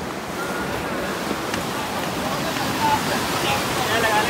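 Fast-flowing river water on the route to Kedarnath, a steady loud broadband rush close to the microphone with some wind buffeting, continuous throughout.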